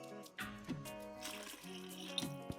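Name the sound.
club soda being poured into a mixing container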